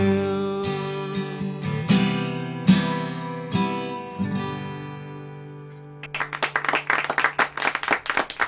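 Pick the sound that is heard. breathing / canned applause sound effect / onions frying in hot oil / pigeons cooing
canned applause sound effect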